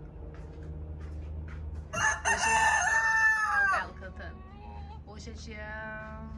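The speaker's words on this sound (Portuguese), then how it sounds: "Só escutando os galos cantar" A rooster crows loudly and close by, one long harmonic call, followed by a fainter second crow, with a voice speaking before and between.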